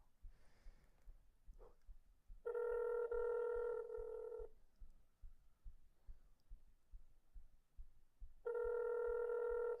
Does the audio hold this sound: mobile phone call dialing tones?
yes